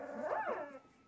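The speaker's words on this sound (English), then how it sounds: "That's the gray one barking." A single high-pitched bark from a Newfoundland–Saint Bernard puppy, close and fairly loud, rising then falling in a short yelping cry.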